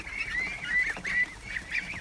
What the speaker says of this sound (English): a little wild duck just landed here